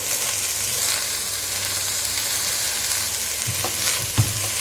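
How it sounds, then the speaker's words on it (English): Tomatoes and minced beef frying in a pan for stuffed cabbage rolls, a close, steady crackling sizzle with a few soft stirring knocks near the end and no voices. "It's going to make that sizzling noise that you will hear."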